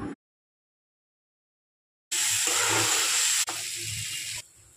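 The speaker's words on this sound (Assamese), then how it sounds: "এতিয়া মই এয়া ভাজি ৰখা কচুখিনি ইয়াত দি দিম। ভালদৰে দি পেলাই ভাজিম।" Pieces of pre-fried ol kochu (elephant foot yam) drop into a hot pan and burst into a loud, sharp sizzle after a silent pause. The sizzle then settles to a softer hiss before fading.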